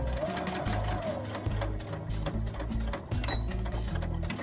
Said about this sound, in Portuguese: A gente vai costurar um pouquinho e fazer um pequeno retrocesso só para não descosturar, sem passar do ponto.